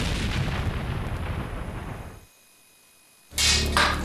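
Firearm or cannon sound effect: a loud booming blast with a long rumbling decay that falls to silence, followed by another sharp close report with a crackling tail.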